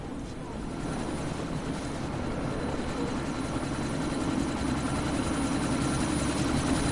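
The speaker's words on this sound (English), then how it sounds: "That chopper's about to take off." A helicopter taking off in the game Deus Ex Mankind Divided roars with a steady, dense rotor and engine drone that holds loud and close throughout, mixed with background game noise.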